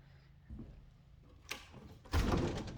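An interior door in a Belfast farmhouse opens: a low thump, then a brief sharp knock and a louder scraping, rumbling swing near the end, close by in a quiet room.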